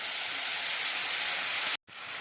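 Potato and onion frying in a hot pan for a spicy broccoli dish, a loud, steady, close hiss of sizzling oil that cuts out abruptly for a moment near the end, then resumes.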